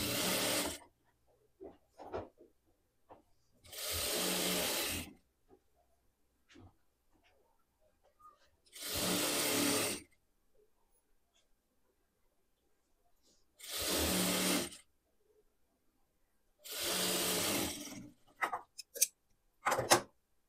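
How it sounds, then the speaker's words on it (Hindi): Sewing machine stitching a lined party wear suit, four separate bursts of steady whirring run a second or so each with quiet pauses and small clicks between, close and alone. "इसके ऊपर इस तरीके से रख के हमने सिलाई लगा ली है"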